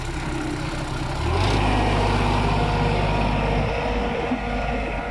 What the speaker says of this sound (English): That tractor will be a familiar sound to anybody who's used to the feed runs with us.